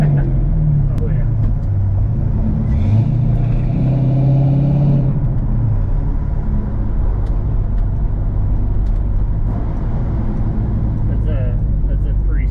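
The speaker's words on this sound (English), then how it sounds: "That's a pretty sweet exhaust note." A 1981 Chevrolet C10 truck rumbles along the road with a steady, deep exhaust drone and a brief rise as it pulls, with voices talking inside the cab.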